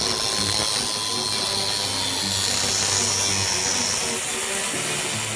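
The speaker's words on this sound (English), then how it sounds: "I'm going to cut these off of the Samurai plates and weld them on in the right place over there" A power tool cuts spring plates off a Suzuki Samurai axle in a garage, making a loud, steady grinding whine that runs without break through the whole stretch.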